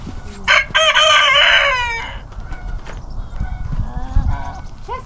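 Chickens in a backyard run crow loudly once up close, followed by lower clucking and scattered fowl calls, with faint honking in the background.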